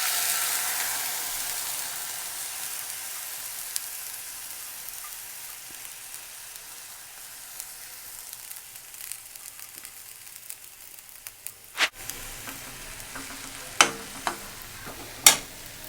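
Soaked lentils cook in a pan for manathakkali keerai kootu, starting with a soft sizzling hiss that gradually fades, then sharper scraping and clinking stirs near the end, close and without talk.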